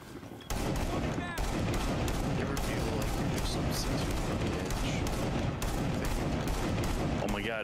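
Sustained, chaotic gunfire in the Rainbow Six Siege video game: dense overlapping shots and bursts, loud and close, continuing almost without pause after a brief quieter opening, with voices talking underneath.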